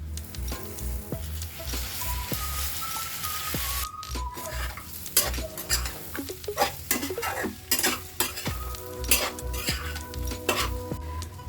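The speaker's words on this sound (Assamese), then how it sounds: "মই আৰু অলপ টাইম ভাজিম, তাৰপিছত উঠাই দিম।" Pork pickle fries in a pan, a soft steady sizzle under repeated scraping strokes of a spatula and occasional metallic clinks against the pan, close and moderately loud with no talking.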